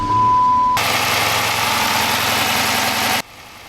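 An ex-police Dodge Charger interceptor engine with no Hemi tick starts up and then settles into a loud, steady idle that runs for a few seconds before cutting off abruptly. A thin steady tone is heard just before the start.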